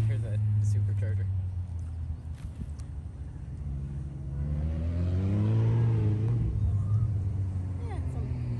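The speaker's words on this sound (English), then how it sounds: "Oh, you can hear the supercharger." Supercharged DF Goblin kit car at an SCCA autocross, its mid-pitched engine revving and surging up and down close by with supercharger whine, while people talk over it.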